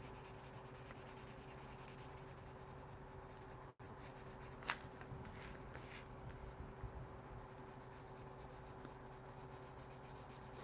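Arteza Everblend markers scratch steadily across paper while drawing Spider-Man inks, a continuous dry rubbing texture with small sharper strokes, close and quiet over a faint hum.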